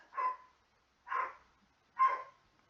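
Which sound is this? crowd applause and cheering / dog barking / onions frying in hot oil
dog barking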